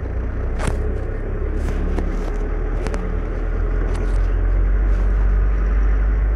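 Car engine rumbling steadily during a driving lesson, a low continuous drone with slight rise as it speeds up, with faint clicks and knocks on top.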